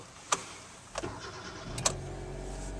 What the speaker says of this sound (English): You can barely hear it start.